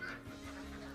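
Ducks call on a Kenyan duck farm, a short burst of noisy quacking and honking held steady across a single second, fairly close and without any talk over it.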